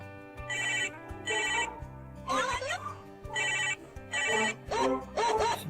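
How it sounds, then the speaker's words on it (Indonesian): A telephone rings in repeated paired bursts of bright electronic trilling, loud and close, with brief pauses between rings and faint voices around it. "Bapak telepon nih, gimana nih? Angkat nih."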